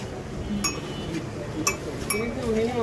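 A spoon clinks against a glass of tea while sugar is stirred in, three or four sharp, bright taps spaced irregularly over steady background chatter and room noise, with people talking nearby.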